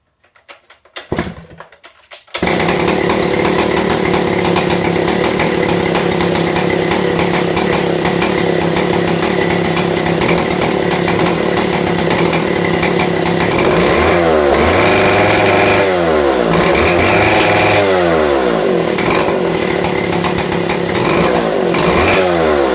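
A Stihl 070 chainsaw cold-starts after a brief pull and rattle, then runs loud and steady at close range, with the engine revving up and down in the later part.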